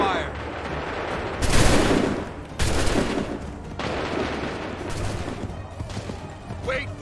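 Musket volley gunfire from soldiers in the Assassin's Creed III video game: several loud bursts of massed shots crack out in separate waves over steady battle noise, with some indistinct voices.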